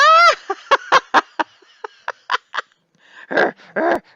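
A dog gives a series of short yips and whimpering barks in irregular bursts, close and fairly loud, with a couple of longer whiny cries near the end as it plays tug.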